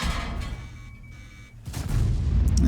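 Tank cannon shots in World of Tanks, a super heavy 60TP firing: a loud low boom opens, then a second heavy blast with a rumbling tail from about 1.6 seconds, filling the low end with game ambience.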